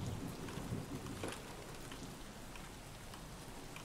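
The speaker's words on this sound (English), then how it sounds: "It's so dark because of the rain." Steady rain hisses in the Escape From Tarkov game world, a dense wash of drops on surfaces with faint low rumbles like distant thunder, continuous and even throughout with no voices.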